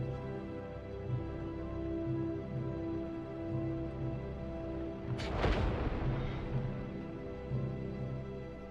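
Turret weapon fire in the space game Star Citizen, a single heavy boom-like blast cutting through a constant low engine hum, loud and close with no talking.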